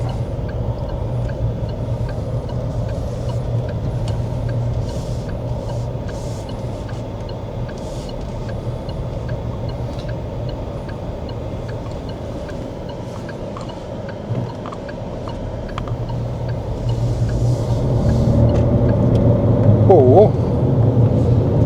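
A low, steady engine hum from inside a moving 2026 Proton X70 SUV, constant road drone that rises slightly toward the end, with brief sounds of talking.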